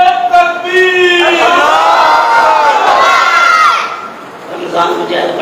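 A crowd at a religious gathering shouts a slogan in unison, a loud collective chant with swelling sustained voices that rises in the middle and then fades, ending in quieter scattered voices.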